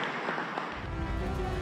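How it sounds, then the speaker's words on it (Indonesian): Applause for welcomed guests at a political gathering for presidential candidate Ganjar Pranowo in Indonesia: a broad, loud, continuous wash of crowd clapping that swells after the first half second, with voices mixed in. "Kita berikan tepuk tangan yang meriah"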